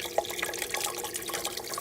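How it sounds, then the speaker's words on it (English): Water trickles steadily down through the slots of a home hydroponic garden system, a continuous close splashing and gurgling with no voices. "now I have water trickling down"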